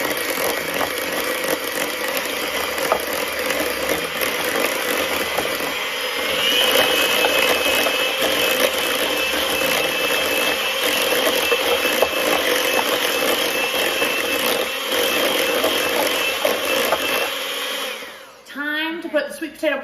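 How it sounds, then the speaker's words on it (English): Electric hand mixer whirring steadily in a bowl of sweet potato pie filling, a loud continuous motor drone that holds for most of the time before stopping near the end with a brief clatter. "you can literally dump it all in the bowl and then you use your hand mixer"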